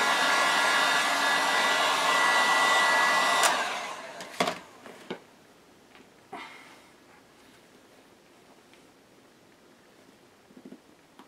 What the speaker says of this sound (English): I'll heat this piece of PVC up, I'll fold it over, we'll get it in that shape